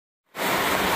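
Heavy rain in the Philippines cuts in after a brief silence and becomes a dense, steady hiss, loud and even, with no voices.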